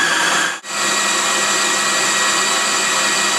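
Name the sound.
food processor grinding laundry soap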